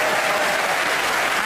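A studio audience at a radio panel game gives a panellist a burst of steady, full applause.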